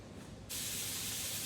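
A steady, loud hiss of pork and vegetables sizzling in a hot pan for spaghetti squash starts abruptly and continues without a break.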